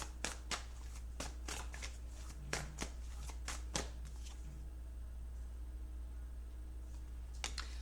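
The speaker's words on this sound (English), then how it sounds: "Give me one card when it comes to Erica" Tarot cards being shuffled during a reading, a run of sharp riffling snaps close by, then quieter handling toward the end, with no talk over them.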